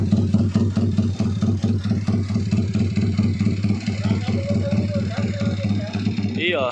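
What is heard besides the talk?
2-stroke contest motorcycle engine idling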